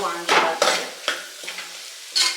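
Vangi bath brinjal mixture with masala being stirred in a pan, with several distinct scraping strokes at irregular intervals over a low sizzle, close and fairly loud, no voices.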